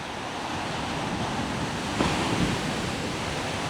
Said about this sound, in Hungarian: És most jön még egy hatalmas nagy hullám